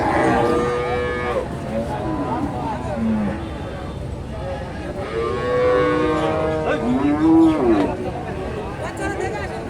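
Dairy cows at the Matajihat cattle market in Naogaon, Bangladesh, moo repeatedly in long, drawn-out calls, some near and loud, over a steady murmur of crowd chatter and people talking.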